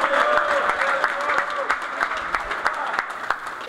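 Supporters of Joinville's tricolor football club (JEC) clapping to welcome the team's players, a steady dense applause with scattered sharper claps and some crowd voices mixed in.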